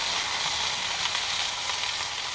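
Beef pot roast sears in a black iron pot over a hot fire, giving off a loud, steady hiss and crackle that stays constant and close with no speech.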